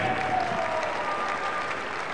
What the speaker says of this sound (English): Round of applause for Michelle, James, and Keenan.